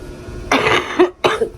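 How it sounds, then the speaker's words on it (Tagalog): Two harsh, close coughs from one person, separated by a short pause, with no talking around them. "Bahala kayo kung gusto nyo to pakinggan na ubo ko."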